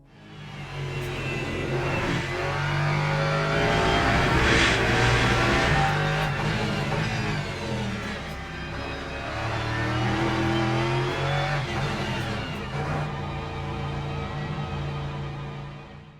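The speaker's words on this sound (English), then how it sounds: "So that was a lap at Circuit of the Americas in the Lexus RCF" A Lexus RC F GT3 race car lapping Circuit of the Americas in the Le Mans Ultimate sim, engine loud and continuous as it revs up through gears, lifts, downshifts and accelerates again, with faint tyre squeal and no talk.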